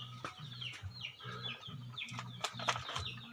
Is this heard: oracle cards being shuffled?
no